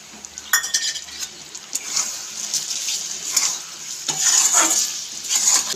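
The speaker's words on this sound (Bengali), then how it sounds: "ঠিক এই অবস্থায় দিয়ে দিচ্ছি ভেজে রাখা আমড়াগুলো।" Fried hog plums tipped into thickened jaggery in a pan for a sweet-sour pickle, stirred with scraping strokes over a steady bubbling sizzle that grows louder near the end.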